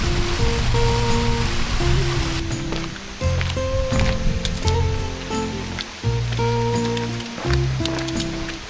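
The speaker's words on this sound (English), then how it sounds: "and you can hear the water already" Steady rushing water fills a jungle canyon in Thailand, loud and continuous, with occasional clicks and faint tonal sounds over the flow.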